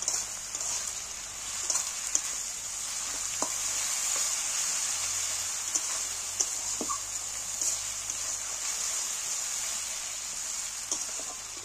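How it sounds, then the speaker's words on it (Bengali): Garlic paste fries in hot oil for a chicken curry, giving a steady, even sizzle throughout with a few faint clicks and utensil taps over a low background hum. "রসুন বাটাটা আমি একটু তেলের মধ্যে ভেজে নেব।"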